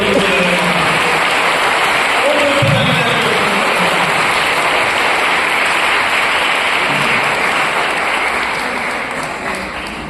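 Loud, sustained applause from an audience at a church meeting, honoring the team that organized it; dense clapping fills the whole stretch and fades slightly near the end.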